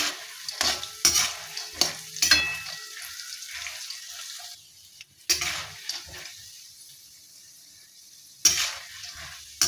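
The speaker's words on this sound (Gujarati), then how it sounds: "આ રીતે કોકું થોડું સંતળાય સુગંધ આવવા લાગે" Sliced dry coconut sautéed and stirred in a pan for roasted poha chivda, giving repeated scraping stir strokes over a soft sizzle, with short pauses between bursts and a final clatter.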